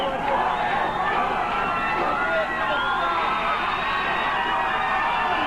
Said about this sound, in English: I don't know how much louder that crowd can get.